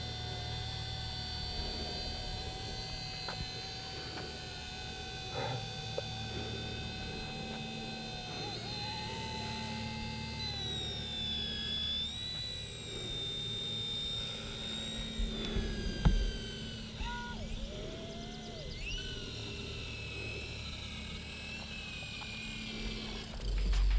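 Black Hornet Nano military drone hovering in wind, a steady high-pitched rotor whine with shifting pitch sweeps, fairly close, with a voice talking in the background.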